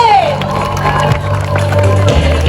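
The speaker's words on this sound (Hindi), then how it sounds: "एक बार हाथ ऊपर करके तालियां बजाइए मिलके।" A circus crowd at Port Grand in Karachi cheers and shouts loudly, with some scattered clapping mixed into the dense roar of voices.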